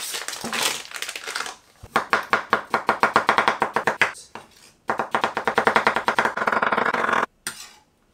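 A knife chops bamboo shoots into sticks on a board, a fast, loud, rhythmic series of crunchy cuts in two long runs with a short pause between them and a few separate strikes at the end.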